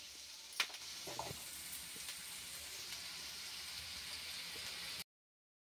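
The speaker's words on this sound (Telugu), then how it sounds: "ఆనియన్స్ మంచిగా ఫ్రై అయ్యి బాగా బ్రౌన్ కలర్ వచ్చే వరకు ఇంకా మంచిగా" Onions and curry leaves frying in a pan, cooking until brown for a boti curry, give off a steady, soft sizzling hiss with no voices over it, then cut to silence near the end.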